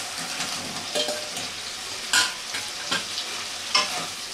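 Fried potato and yam are stirred into a hot, sizzling spice masala, with a constant close sizzle broken by a few sharp scraping strokes of the spoon against the pan.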